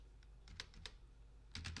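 Quiet keystrokes on a computer keyboard while writing PHP code, a few scattered taps followed by a quick cluster of presses, close and soft with no talking.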